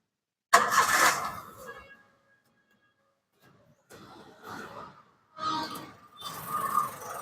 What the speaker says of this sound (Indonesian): Kita nyalain dulu untuk mesinnya